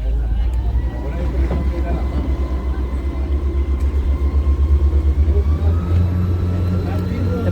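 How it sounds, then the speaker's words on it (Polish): A panga motorboat's engine drones loud and steady on the San Juan River in Nicaragua, a deep continuous rumble throughout. "tak z zewnątrz wygląda panga, którą płyniemy"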